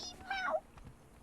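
A cat meows once inside the Conan Exiles video game, a single drawn-out, rising and falling cry at moderate volume with no talk over it.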